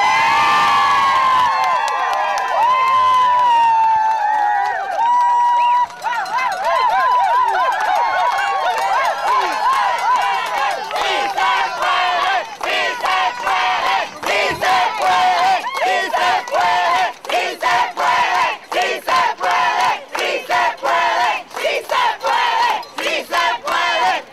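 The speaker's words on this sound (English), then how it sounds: "Can we get a round of applause for these strong workers?" A crowd at a union rally in support of Westin Hotel workers whoops, cheers and shouts, then breaks into sustained loud applause with dense clapping that continues to the end.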